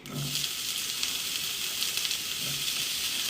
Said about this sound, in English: I'm gonna toss these in and give them a little saute.